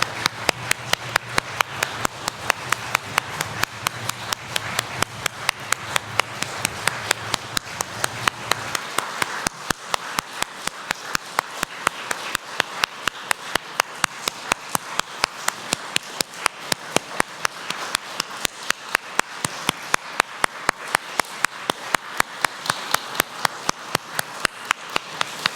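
A church congregation claps for its young adults at a worship service. The applause is steady and sustained, with sharp, dense claps all the way through and no voices.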